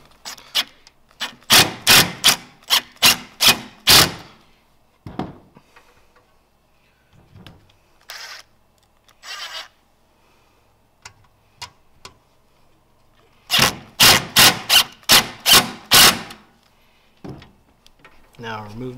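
A power driver sets screws into a pedalboard mounting bracket: two bursts of rapid, loud, evenly spaced clicking driving pulses, separated by quieter handling knocks and brief rustles.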